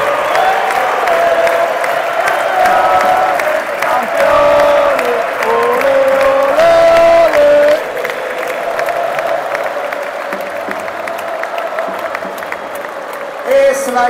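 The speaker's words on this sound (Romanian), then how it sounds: "În acest moment sunt secvențe doar cu Messi și toată lumea aplaudă" A stadium crowd at Camp Nou in Barcelona claps and cheers in a broad, sustained wash of applause, loud and continuous, with music or voices weaving through it.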